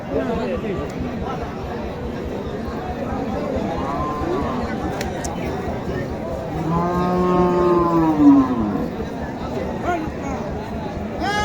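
Cattle at a busy outdoor cow market in Naogaon moo, including one long, clear call, over constant crowd chatter and nearby voices.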